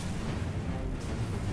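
Grenade explosion in the sci-fi shooter game Destiny, a dense, sustained low rumbling boom with rolling blast energy that holds steady for its full length, with no voices over it.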